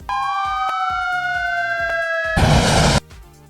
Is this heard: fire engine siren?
yes